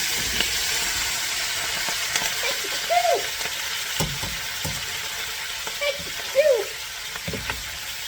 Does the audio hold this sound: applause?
no